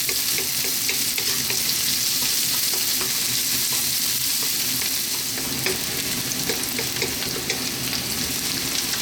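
Garlic stir-fries in a hot wok over high heat with a dense, constant sizzle and the repeated scrape of stirring, loud and close with no voices.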